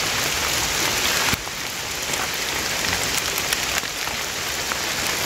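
Steady rain falls on a mountain trail on Gede Pangrango, a dense continuous hiss of drops that stays loud and close throughout, dipping slightly partway through, with no voices.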